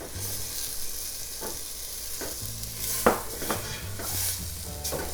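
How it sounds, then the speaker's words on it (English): Peas sautéing in a pan for potato peas curry, a steady broadband sizzle with stirring scrapes and a few sharper clinks, moderately close, with no one speaking. "gonna saute for a little bit"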